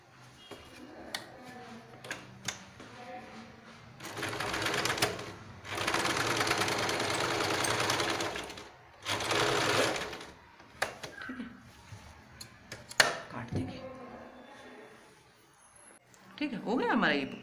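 A sewing machine runs in several bursts, stitching a U-shaped seam on fabric for a carry bag, with longer steady runs in the middle and a person talking between and over the stitching.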